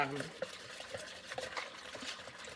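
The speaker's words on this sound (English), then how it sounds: "I'll whisk it all the way down, and it's okay if there's clumps" A whisk stirring a sourdough mixture in a bowl, with clumps, gives soft repeated scraping and sloshing strokes in a steady rhythm, faint and close, with no talk over it.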